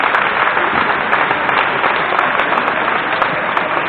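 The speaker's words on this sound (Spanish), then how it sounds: "Un aplauso, por favor." A crowd claps steadily at a table tennis youth tournament prize ceremony in Vigo. The applause is loud, dense and continuous, with a few sharper individual claps standing out.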